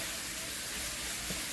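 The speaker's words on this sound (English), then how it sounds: "I'm just cooking up our ground pork, now sausage" Ground pork sausage fries in a pan with no added fat, giving a steady, close, bright sizzle and hiss with a few small pops.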